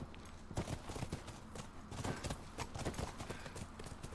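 Horse hooves clip-clopping in The Last of Us video game: a busy, close patter of hoof strikes moving at a brisk walk, steady throughout, over a light game ambience and no talk.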